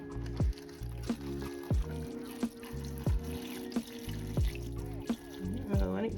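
Cold tap water pours and splashes over seed starting pellets in a tray, a continuous running and filling sound broken by repeated sharp knocks and clunks close by.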